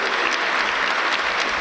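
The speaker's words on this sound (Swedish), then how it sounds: "om nu det är någonting att klappa åt" Audience applause at a Lucia concert by a men's choir, dense continuous clapping filling the whole moment at an even, fairly loud level.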